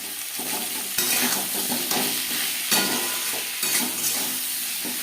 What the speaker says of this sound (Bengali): লবণ হলুদ আলুটা করে ভালো করে মিক্স করে দেবো